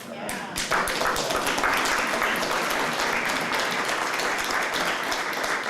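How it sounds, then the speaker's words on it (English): A crowd at a city council workshop applauds steadily, a dense wash of many hands clapping that carries on without pause from start to finish. "I think we should give ourselves a round of applause."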